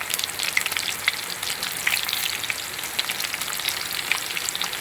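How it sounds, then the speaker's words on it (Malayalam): Finely chopped small onions fry in hot oil with mustard seeds and fenugreek in a clay pot, a dense, continuous close-up sizzle with a few brighter crackles throughout and no talking. "ചെറിയ ഉള്ളി ചെറുതായിട്ട് അരിഞ്ഞത് അതിട്ട് കൊടുക്കും ചട്ടിക്കകത്തോട്ട്"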